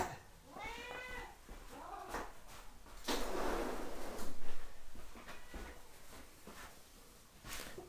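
A cat meows several times nearby, wavering and drawn out, with rustling and handling noises between the cries.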